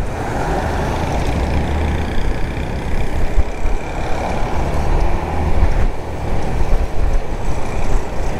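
A Zontes 350E scooter rides along a divided highway, with a constant rushing blend of engine and wind noise and slight swells in loudness, without any talking.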